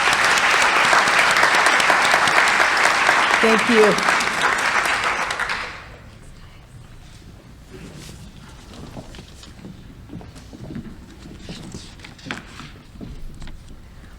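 Crowd at an annual community meeting applauding loudly for several seconds, then the clapping cuts off to quiet room noise with a few faint sounds and a brief spoken thanks.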